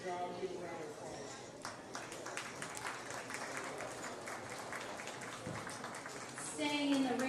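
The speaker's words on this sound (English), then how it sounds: "Give a round of applause." Moderate, fairly distant applause at a show-ring event, a scattered patter of clapping that lifts slightly toward the end, with voices talking over it.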